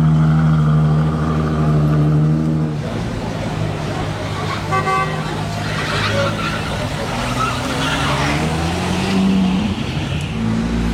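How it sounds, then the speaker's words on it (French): A Ferrari V12 engine fires up and settles into a loud, rough idle with rising and falling revs, close by, with voices and other car sounds in the background. "Premier démarrage de V12. C'est sûr que là on a 4 V12 Ferrari."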